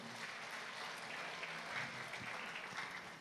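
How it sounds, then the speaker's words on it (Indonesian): Steady, dense applause from a church congregation at the close of a GBAI congress, filling the hall continuously and evenly without a break. "Jadi tepuk tangan untuk jemaat-jemaat dulu"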